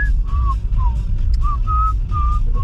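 A person whistles a short tune in several separate phrases over a loud low rumble, the notes clear and close.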